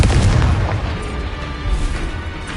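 A Confringo blasting spell from Hogwarts Legacy goes off in a heavy, booming burst, followed by rumbling, crackling blast noise that fades over a couple of seconds with no voice heard.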